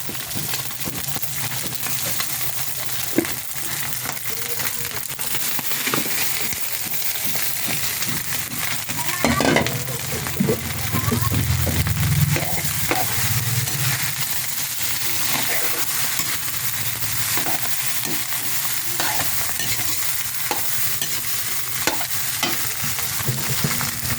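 Cooked rice for Filipino garlic fried rice (sinangag) sizzles in a pan, a continuous bright hiss broken by repeated scraping and stirring strokes of a spatula, close and fairly loud, with a brief low rumble midway.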